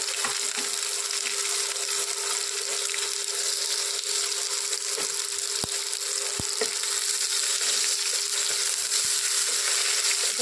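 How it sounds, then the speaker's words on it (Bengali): Chopped onion and browned garlic fry in a hot pan, a dense continuous sizzle with faint stirring scrapes and occasional soft knocks, no voices. "রসুনটা লাল লাল হয়ে গেছে এখন দিয়ে দিচ্ছি পেঁয়াজ কুচি"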